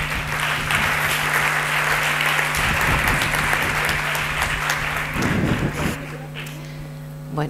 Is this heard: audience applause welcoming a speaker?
yes